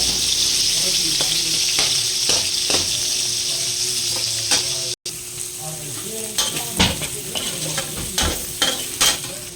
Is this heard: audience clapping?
no